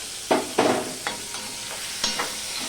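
Chopped ginger and tomato sautéed and stirred in a pan for a vegetarian broccoli dish, with several distinct scraping stir strokes over a low steady sizzle, fairly close, no talking.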